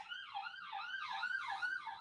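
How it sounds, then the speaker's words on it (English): Wailing emergency sirens rise and fall in a steady repeating sweep, distant and muffled in the background with no one speaking. "Sirens in the background."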